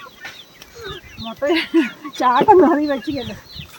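Chickens cluck and squawk close by in irregular bursts, growing busier toward the middle before settling.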